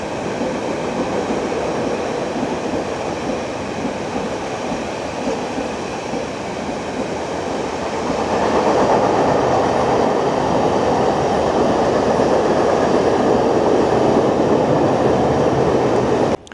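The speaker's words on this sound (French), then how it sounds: "On a un train qui passe à côté, c'est un porte-auto." A car-carrier freight train rolling past close by on a line near Bordeaux, a steady loud rumble and rattle of wagons that swells halfway through and runs on continuously, with no talking.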